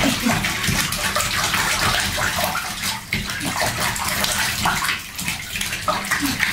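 Water splashes and sloshes in a filled bathtub at bath time, loud and close, with continuous churning broken by brief, stronger splashes.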